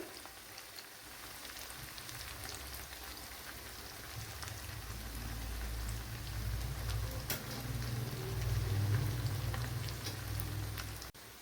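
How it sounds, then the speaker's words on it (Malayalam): Cauliflower bread snacks fry in hot oil, a steady crackling sizzle close by that swells slightly louder partway through and carries on without a break, with no voices. "കണ്ടല്ലോ ഇവിടെ ഫ്രൈ ആയി വരുന്നുണ്ട്."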